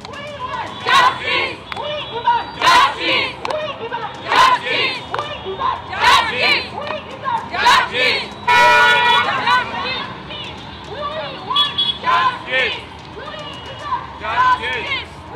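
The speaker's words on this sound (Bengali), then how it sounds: "দীপ্ত স্লোগানে একেবারে ফেটে পড়ছে, গর্জে উঠছে এই মুহূর্তে রাজপথে প্রতিবাদ" A street protest crowd chants slogans in loud, rhythmic bursts, many voices shouting together in repeated call-like phrases that carry a strong, steady cadence.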